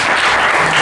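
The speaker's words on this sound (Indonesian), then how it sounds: "Tepuk tangan untuk semuanya." A short, dense burst of crowd applause from young listeners at a public talk, loud and close, with many hands clapping together for under a second.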